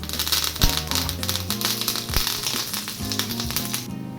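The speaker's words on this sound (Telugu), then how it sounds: "అలాగే కరివేపాకు కూడా వేస్తున్నాను." Curry leaves hit hot oil with peanuts, dal and cumin in a tempering, giving a close, busy crackling sizzle with sharp spattering pops and occasional spoon taps.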